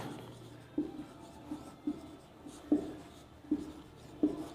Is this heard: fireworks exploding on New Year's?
no